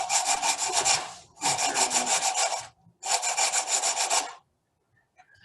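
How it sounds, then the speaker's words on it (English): Sandpaper rubbed by hand across the end of a composite rowing oar handle on a Concept2 oar, heard as three close, loud bursts of rapid back-and-forth scratching strokes with short pauses between, then near silence. "Put a sandpaper on the end, and then I'm going to tip it out again."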